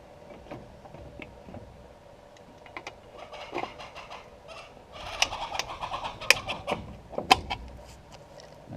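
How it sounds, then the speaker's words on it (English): Chickens clucking and cooing outdoors, scattered short calls at first that grow busier and louder, with a few sharp squawks standing out near the middle of the stretch. "Not sure what's up with my chickens."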